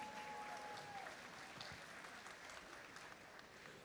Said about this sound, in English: can we give our referees a huge round of applause?